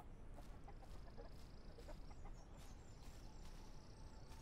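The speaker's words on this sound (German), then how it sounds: "Huhn." Chickens cluck repeatedly in the survival game The Isle, a faint, steady run of short clucks over a constant wash of outdoor ambient noise.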